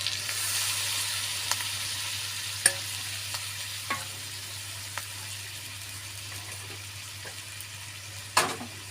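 Chicken and potatoes coated in turmeric and chili paste fry in a pan with a constant hiss and sizzle, broken by a few sharp spatula clicks and one louder scrape near the end.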